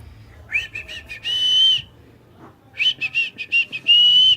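A baby tries to whistle up close, making two runs of short, high, reedy toots, each ending in a longer held note, with a quiet pause and faint background rumble between them.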